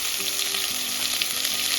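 Green chili and ginger sizzle in hot oil with curry leaves for Surti undhiyu, a loud, dense, continuous frying hiss close by with no talk.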